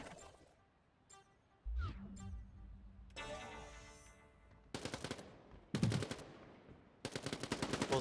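SMG gunfire in the video game Quantum League, with several sharp rapid-fire bursts that come in quick succession alongside other synthetic game effects, loud and close with short gaps between volleys.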